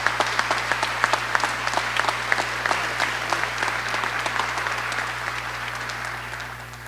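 Staff audience at a school back-to-school gathering breaks into applause, a full room of steady clapping with a few sharp individual claps on top, gradually fading over several seconds.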